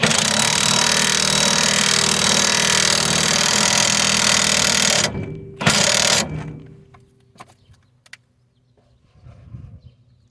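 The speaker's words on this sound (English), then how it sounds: "we'll hit it with the impact, and it'll just suck it in" An impact wrench pulls a wheel stud into a hub with a loud, continuous buzzing hammer for about five seconds. A short second burst follows, then faint clicks and handling noises.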